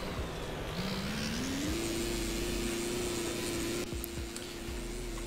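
Engine of a DAF-33 vehicle with an automatic CVT transmission in GearBlocks, a small power pack droning steadily as the pitch rises smoothly without gear shifts, then holds at a constant whine near top speed, loud and close.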